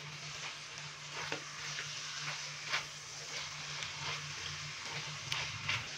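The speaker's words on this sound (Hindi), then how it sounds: "चिकन डालने के बाद अभी हम इसको अच्छे से मिक्स करेंगे।" Chicken sizzles in masala in a hot pan while being stirred, a steady soft frying hiss broken by light scraping and clinks of the spoon at irregular moments, fairly quiet and with no talking.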